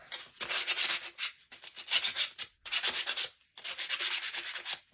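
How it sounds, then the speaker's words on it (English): Sandpaper rubs a painted scarecrow figure in four quick bursts of back-and-forth strokes with short pauses between them, close and crisp, with no talking. "Just take a piece of sandpaper after he's dry and sand him."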